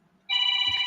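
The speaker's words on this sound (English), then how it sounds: "my son's phone's ringing, y'all" A phone rings loudly and steadily during a live online show, its bright electronic ringtone starting abruptly and continuing without a break, with a faint low rustle beneath near the end.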